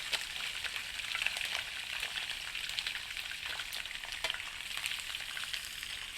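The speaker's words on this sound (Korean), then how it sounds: "이렇게 넣고 이제 뭐 튀기듯이 볶는다고 생각하시면 돼요" Pork sizzling and crackling in hot oil as it is stir-fried, a continuous close frying hiss with occasional sharper pops as it is stirred.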